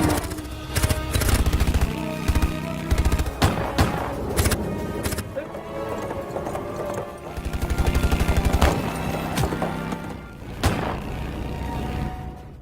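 Gunfire in a World War II film battle against German soldiers and a motorcycle patrol, with bursts of rapid automatic shots and single cracks over a dense, loud soundtrack, punctuated by booms and thuds.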